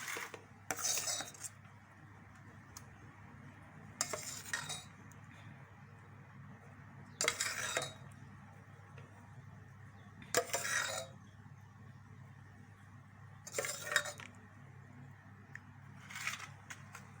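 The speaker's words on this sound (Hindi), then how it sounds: "अब इसे नीचे उतार लेंगे। अब डिश आउट कर लेंगे।" Apple kheer is served into a dish with short bursts of metal utensils clinking and scraping against the vessel, about six separate clatters spread over a quiet background.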